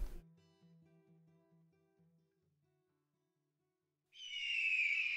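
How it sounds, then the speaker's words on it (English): A shrill, harsh hawk scream bursts in loudly near the end as a stream alert, after a faint series of hooting tones that fade into silence. "Thanks so much for making that hawk scream."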